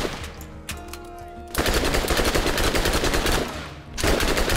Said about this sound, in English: I like this SMG.